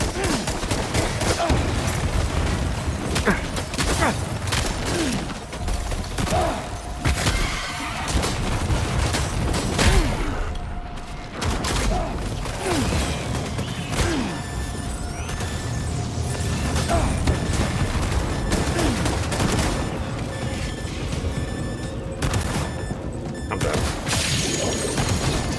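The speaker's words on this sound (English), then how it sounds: "Stop with these flippin' explosions, Kojima!" Explosions and bursts of gunfire from the Death Stranding 2 video game crash and rattle in dense, loud succession, with booms and shattering hits layered over a constant roar.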